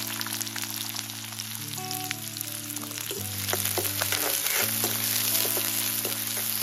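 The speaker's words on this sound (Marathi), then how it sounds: "कांदा थोडासा मऊसर होईपर्यंत परतून घ्यायचा आहे" Chopped onion sizzles steadily in hot oil with garlic cloves, curry leaves and mustard seeds for a Kokani-style fresh cashew curry. A dense, continuous hiss with scattered crackles rises slightly louder halfway through, over a low steady hum, with no talking.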